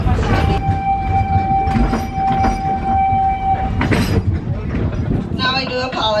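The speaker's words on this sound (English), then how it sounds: "Now I do apologize, we had to stop the train." Train at Rafiki's Planet Watch coming to a stop, with a sustained metallic squeal and rumbling wheels under a low, steady engine hum, ending in a short hiss of released air; no talk during it.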